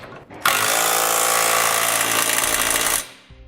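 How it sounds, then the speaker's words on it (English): A power tool with a 19mm socket snugs down the mounting hardware of a Curt trailer hitch receiver. One loud, close, continuous whirring burst lasts about two and a half seconds before it winds down and stops. "I'm going to come back with a 19mm socket and snug up all my hardware."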